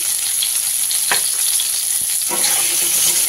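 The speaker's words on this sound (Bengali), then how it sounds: "এবার আমি তেলের মধ্যে আলুটা ভেজে নেব।" Potatoes fry in hot oil with turmeric and salt, a loud, close, steady hiss of sizzling with a couple of brief stirring clatters, and no voices.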